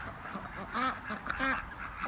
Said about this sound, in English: Yep, and some happy ducks.